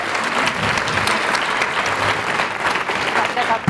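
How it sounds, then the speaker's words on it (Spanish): A book-forum audience applauds two guests, a steady, full roomful of clapping that runs the whole stretch, with a faint voice or two mixed in beneath it. "un gran aplauso a estos dos invitados que tuvimos hoy"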